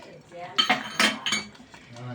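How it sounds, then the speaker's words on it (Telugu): Ladle stirring kurma curry made with potatoes in a metal pot, a few clinking scrapes against the pot in quick succession, close and moderately loud, with a voice speaking briefly. "ఒకసారి బాగా మిక్స్ చేసేసుకొని ఇంకా కర్రీ దించేయడమే."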